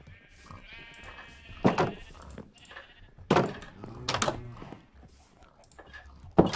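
Sheep in a Minecraft farm pen bleat several times in short, separate calls spread through the scene, fairly close and distinct over a quiet background with light clicking.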